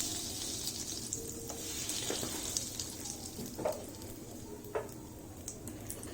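Asafoetida fries in hot oil in a kadai on a gas stove, a steady soft sizzle with occasional stirring clinks and scrapes, heard up close with no talking.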